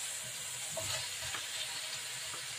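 Onion hitting hot oil in a pan, a continuous close hiss and sizzle with light crackle throughout, no voices.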